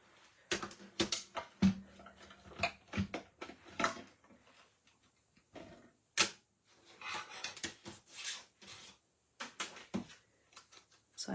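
Paper being cut out with scissors at a craft table after being held down with washi tape, a quiet series of short, separate snips and clicks with pauses between them, close by and without talk.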